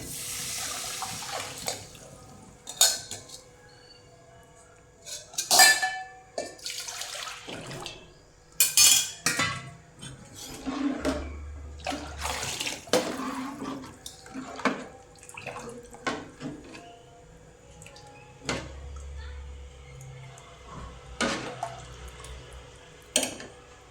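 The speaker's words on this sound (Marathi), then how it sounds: "येळवणी हे पुरणाचं जे पाणी असतं ते काढल्यानं हे मध्ये टाकून घेऊया आपण." Cooking water drained from boiled lentil filling is poured into a pot in intermittent splashy bursts, with scattered clinks of a metal vessel and quiet trickling between pours, close by with no talk.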